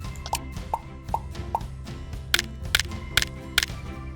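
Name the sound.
bone reward sound effect in a dog shepherd video game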